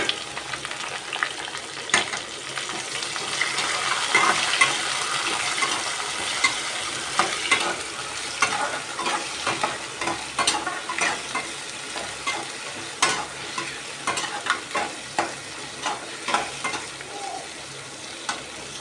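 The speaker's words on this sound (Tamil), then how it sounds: "நாங்கள் இப்போ வந்து பூண்டும் கருவேப்பிலையும் போட்டிருக்கோம் இது கொஞ்சம் வதங்கிட்டோம்" Garlic and curry leaves sauté in a pan for a village-style dried-fish curry, a steady frying sizzle under repeated scraping stirs with a spoon, close and fairly loud, no talking.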